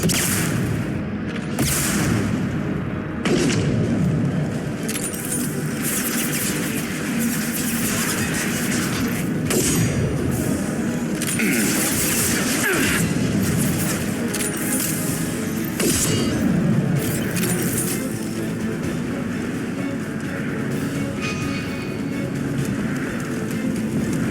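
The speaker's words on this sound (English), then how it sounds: "Firing concussive shots." Concussive shots fire in the video game Mass Effect 2, heavy booming blasts and gunfire bursts repeating over a dense, loud battle backdrop of rumble and explosions.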